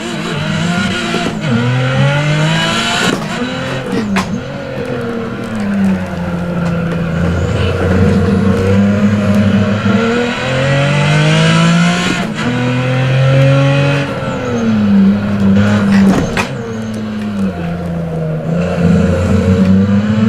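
A race car in the Assetto Corsa driving game, from a Japanese car pack, revs hard as it accelerates and brakes through corners, the engine pitch rising and falling repeatedly, with tire noise and a brief collision.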